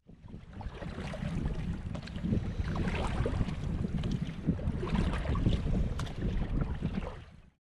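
Kayak paddling across Loch Chon in the Trossachs, with close water swishes and splashes from the strokes over steady wind noise, no voices.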